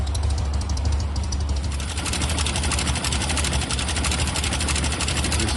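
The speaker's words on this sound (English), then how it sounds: "Listen to that engine." A classic car engine, long in storage and running on stale petrol, idles in a workshop with a fast, even, close-up mechanical chatter that stays steady throughout.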